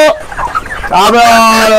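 A chicken clucks loudly and close up, a short burst of choppy calls followed by a longer drawn-out squawking cluck, alone and without talk.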